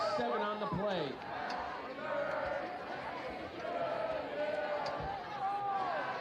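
A high school varsity football crowd cheers and shouts from the stands, a broad steady roar with scattered whistles and voices, heard at a distance under an announcer's voice.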